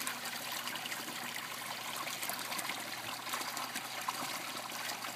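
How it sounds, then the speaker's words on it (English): Water splashes steadily into a koi stock tank like a small waterfall, a continuous close rushing and trickling with no voices. "It gives it that waterfall sound, and also aerates the water really well."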